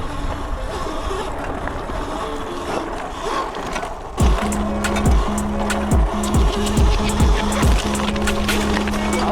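Qronge X1 Spark budget electric dirt bike riding down a rocky hill outdoors: steady wind and rolling noise give way to repeated rising-and-falling motor whines and bumps as it crosses the rocks, close and fairly loud.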